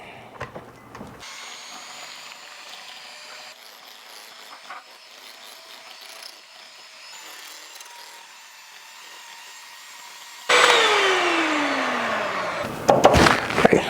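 An electric mixer beats strawberry cake batter, a sudden loud whirring that starts after a long quiet stretch and runs steadily with rattling bursts near the end.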